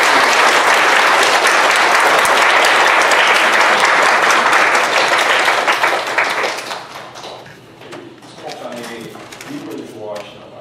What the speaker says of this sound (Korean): 크게 박수로서 환영해 주셔서 감사하겠습니다